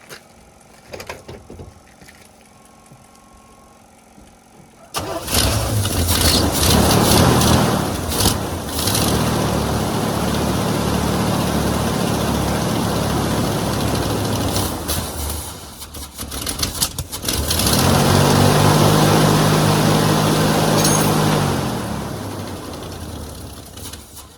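A 1984 Chevrolet Suburban engine cranks, then starts and runs loudly and steadily nearby, swelling in a revving surge before settling back toward idle.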